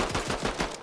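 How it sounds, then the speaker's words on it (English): An oversized cap gun fires in a brawler video game, a quick burst of about five rapid shots in under a second, loud and close. "That is the biggest cap gun ever"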